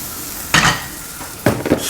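A spatula stirs eggs in a hot pan in two short bursts of scraping and sizzling, close up, with a soft hiss from the pan between the bursts.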